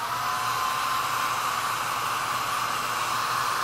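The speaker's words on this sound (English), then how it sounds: "Blow dryer, make sure it's on low setting," A blow dryer running on its low setting, used to warm an eyelash curler, gives a steady, even whoosh of airflow with a constant hum, continuous and close throughout with no voices.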